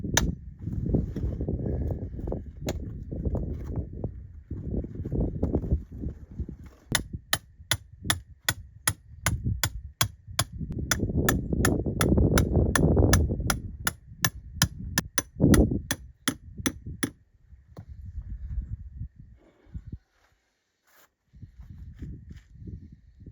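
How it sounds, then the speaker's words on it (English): A length of rebar is hammered into soil beneath a tiled floor, a rapid run of sharp metallic taps repeating steadily for several seconds, close and loud amid intermittent talking. "From tapping in this bit of rebar into the soil below those tiles"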